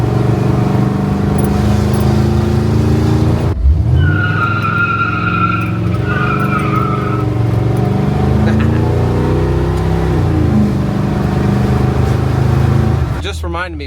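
A cammed Chevrolet C10 Squarebody truck rolls into a driveway with its lumpy, loping engine rumbling loud and close, revs rising and falling, along with a brief tire squeal or scrape partway through.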